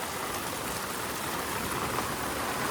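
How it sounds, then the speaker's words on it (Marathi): Heavy rain pours steadily over Saygaon village, a dense continuous hiss with no pauses, close and loud throughout. "पाऊस बघा फुल पाऊस आहे"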